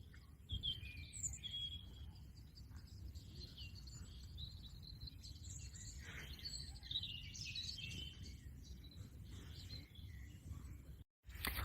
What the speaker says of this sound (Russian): Это те самые соловьи, которые в 3 часа ночи поют.